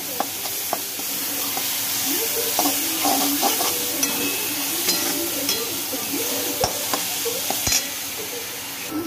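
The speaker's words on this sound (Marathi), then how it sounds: "मीठ, परतून घ्यायचं जरा व्यवस्थित" Besan mixture with salt is sautéed in a pan, giving a steady sizzle under repeated scraping and stirring strokes. A couple of sharp utensil taps on the pan stand out, and a voice is faintly heard.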